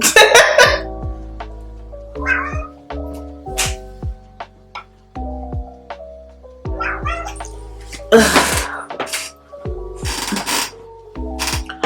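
A cat meows repeatedly in short bursts, some drawn out and insistent, close by, with brief pauses between calls and no talking.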